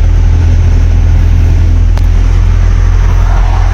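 A Tata BS6 phase 2 truck climbs a small slope in low gear, its engine a loud, steady, close rumbling drone that never lets up, with no voices.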